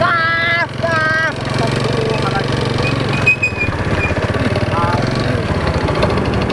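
Motorcycle engine revving, a loud, continuous rough drone with rising and falling pitch, heard close up while people talk and shout over it.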